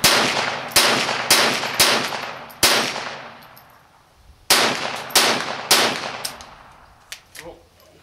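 Gunshots fired at a reactive steel target outdoors: about nine loud, sharp reports in two quick bursts, each followed by a ringing decay, then a short pause and faint small sounds.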